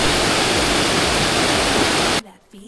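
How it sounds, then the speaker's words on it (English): Winter waterfall on the Berg Lake Trail in Mount Robson Park, British Columbia, roaring as a loud, steady broadband rush close by that cuts off abruptly near the end, leaving quiet faint sounds. "Waterfall."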